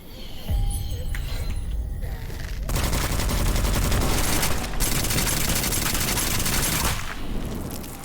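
Sustained automatic gunfire in the dark fantasy shooter Witchfire, loud and dense for several seconds with a brief lull before resuming, layered over ambient game noise.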